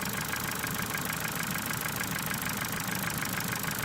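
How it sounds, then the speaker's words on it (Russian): A Ford Mondeo 4 with a 1.6 petrol engine idles with a rapid, even clicking and a diesel-like clatter, close up and steady, with no voices over it. "Щелчки похожи как на цокот клапанов там или чашек клапанов."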